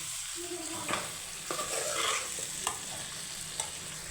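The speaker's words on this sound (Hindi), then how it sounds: "मैंने डाली भिंडी मसाले में और मिर्चें मैंने कम ही रखी हैं" Okra being stirred in a spice masala with green chillies, frying with a steady sizzle and a few sharp scrapes of the spoon against the pan, close and continuous, no voices.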